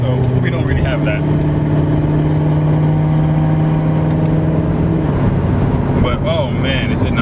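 A 2015 Chevrolet Corvette C7 with a Procharger supercharger, aftermarket exhaust and headers, cruising on a flat road with a steady low engine drone and a brief rise near the end, heard from the cabin under someone talking.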